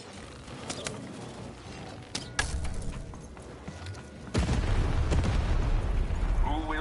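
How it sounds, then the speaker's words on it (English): A cannon fires in the video game Lost in Random, giving a sudden deep boom that rolls into a loud, sustained rumble after a few sharper pops and clicks. "Shoot the button to fire the cannon."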